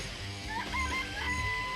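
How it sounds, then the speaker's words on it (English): Chickens cluck and a rooster crows in a chicken coop scene from the video game Danganronpa: Trigger Happy Havoc, a steady layered stream of fowl calls over background game music. "I remember there were some chickens in the chicken coop."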